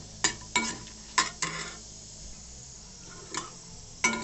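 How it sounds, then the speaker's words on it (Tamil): Dried red chillies fry in a pan under a faint sizzle, with sharp clicks and taps from a spoon at irregular intervals. "இப்போ இந்த காஞ்ச மிளகாவை போட்டு முதல்ல ஃப்ரை பண்ணிக்கலாம்"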